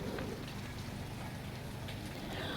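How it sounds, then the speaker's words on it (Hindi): Steady rain falls in a village, a dense, even hiss of drops that holds at the same level throughout, with no voices. "तो बस जी यहाँ पर बारिश हो रही थी"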